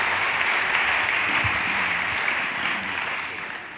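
Audience applause at an evening stage event, a steady dense wash of clapping that holds loud throughout and eases slightly toward the end, with no talk over it.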